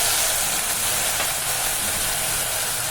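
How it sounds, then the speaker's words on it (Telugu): Onions sizzle in a hot pan of oil for a red pumpkin stew, a loud, steady hiss of frying that holds unbroken from start to finish. "ఇలా వేయించండి. చూస్తారు కదా, బ్రహ్మాండంగా వేగుతుంది కదా"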